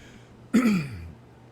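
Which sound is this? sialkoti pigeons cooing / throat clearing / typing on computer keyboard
throat clearing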